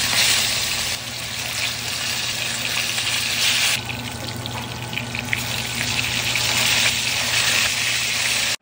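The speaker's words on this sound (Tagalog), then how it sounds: "Habang piniprito ni Papa ang isda," Fresh skipjack tuna, gills removed and cut into pieces, frying in a pan, a loud steady sizzle and crackle close up with bursts of spattering oil, no one speaking.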